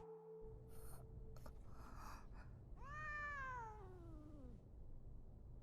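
A cat in the Chainsaw Man anime lets out a single long, drawn-out meow that falls in pitch, heard clearly after some brief scuffling and clicks.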